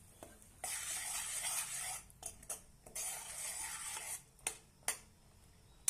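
Whisked curd being stirred into fried black chickpeas in a pan, with a rhythm of scraping stirring bursts and a soft sizzle underneath, then a few sharp clinks of the spoon against the pan.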